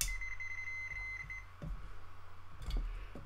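A multimeter's continuity beep sounds as the probes touch a soda can: one steady electronic tone holds for just over a second, then fades. Faint handling clicks follow in a quiet indoor room.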